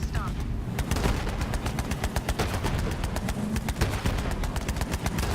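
Rapid automatic gunfire from a first-person weapon in Borderlands 3, a dense string of sharp shots cracking steadily for several seconds under a busy game soundscape, with a voice talking over it.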